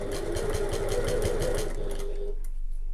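A sewing machine runs steadily, stitching a seam on a tote bag at long stitch length, a continuous close mechanical whir that stops near the end.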